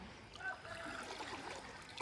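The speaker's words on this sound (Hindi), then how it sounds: "पानी आ रहा है उधर से।" Water from a supply pipe runs and trickles steadily at low volume, a soft continuous flow with faint splashing.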